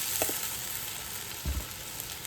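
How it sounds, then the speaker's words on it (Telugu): Ginger-garlic paste frying among fried onions for chicken dum biryani, a low steady sizzle with a couple of soft spoon knocks, quiet and alone. "నా వేగిన ఆనియన్స్లో నేను ఇప్పుడు అల్లం వెల్లుల్లి పేస్ట్ వేస్తున్నాను"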